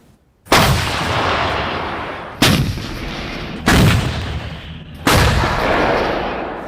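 M109L self-propelled howitzer firing on a front position, four heavy booming shots spaced roughly one to two seconds apart, each loud and close with a long rumbling decay, no voices.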